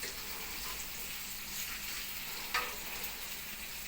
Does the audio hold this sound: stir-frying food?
yes